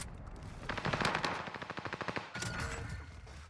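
Rapid automatic gunfire in the video game Warzone, a fast burst of evenly spaced shots from close range, followed by a louder noisy stretch of game sound.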